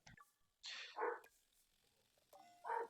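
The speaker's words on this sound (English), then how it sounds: "Dogs are barking." Dogs barking in short bursts nearby, a few separate woofs and yips spread across the moment with quiet gaps between, no talking over them.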